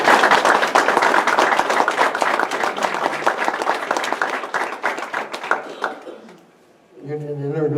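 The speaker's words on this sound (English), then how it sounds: "please give him a round of applause and welcome" Loud applause from an audience with dense clapping that fades out toward the end, followed by a brief tonal sound.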